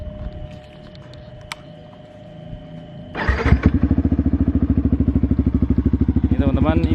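A motorcycle fitted with a Qala Performance racing exhaust fires up and settles into a loud, close, rapid rhythmic idle pulse after a quiet stretch of background noise.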